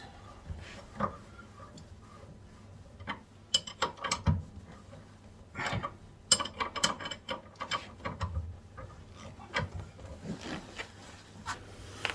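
A spanner ratchets as it tightens a front suspension part, giving repeated clicking and metallic ratchet bursts in irregular runs, close and clear, with clunks of metal parts and no speech.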